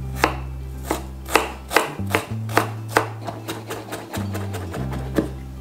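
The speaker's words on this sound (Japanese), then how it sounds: "生姜は皮を剥いてみじん切りにしておく。" A knife minces peeled ginger on a cutting board in a steady series of crisp, close chops about every half second, alone under a low background hum.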